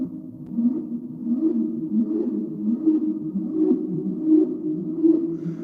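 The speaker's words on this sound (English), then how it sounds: "All right, bubbly riser. Let's hear it." A bubbly riser preset plays on a Universal Audio Anthem synthesizer as a low, wobbling, bubbling tone with soft repeated blips, sustained for several seconds without a voice.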